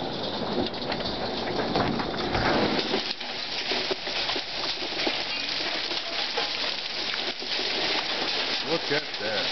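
An early morning hail storm pelts the ground and guardian dogs, making a dense, steady patter of hits close by, with a voice speaking at times over the noise.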